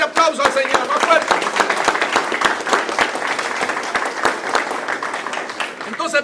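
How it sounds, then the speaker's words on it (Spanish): A church congregation claps steadily through a lively worship service, with dense sharp rhythmic hand claps sustained for several seconds, loud and close. "démosle más fuerte ese aplauso al Señor, más fuerte"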